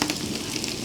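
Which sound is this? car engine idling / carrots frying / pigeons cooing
carrots frying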